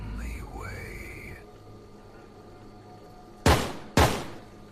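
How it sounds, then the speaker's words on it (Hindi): Two loud gunshots ring out about half a second apart in a horror video game set in a cabin, each sharp crack trailing into a brief echo, after an eerie tonal swell and quiet ambience. "2 gunshots."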